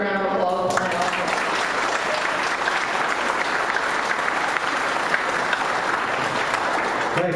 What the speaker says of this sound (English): So she deserves a round of applause for that also.